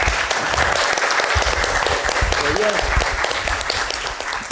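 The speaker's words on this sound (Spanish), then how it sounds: "Así que un aplauso de nuevo, por favor." A university lecture audience in Santiago de los Caballeros applauds steadily and fairly loudly, a dense wash of many clapping hands, with some voices faintly audible underneath.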